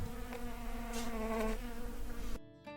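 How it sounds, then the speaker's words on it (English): Bees swarm around a desert campsite, a close, continuous droning buzz with individual insects swelling louder as they pass near, cutting off abruptly near the end. "We woke up to this sound. It was even louder than this when there was more bees"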